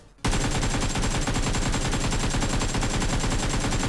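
Video game gunfire rattles in a dense, loud, continuous automatic burst that runs for several seconds with no talk over it.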